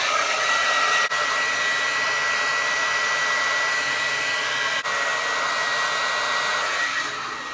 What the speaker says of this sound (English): Let's blow dry this puppy.